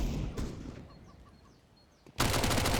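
Rapid gunfire sprays in a competitive 3v3 video game match, loud dense bursts at the start and again at the end, with quieter gameplay noise and faint chirps between.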